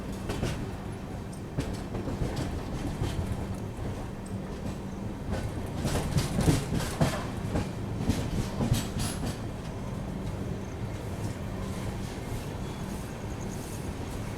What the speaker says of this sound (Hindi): ट्रेन अपनी इटारसी जंक्शन अराइव कर रही है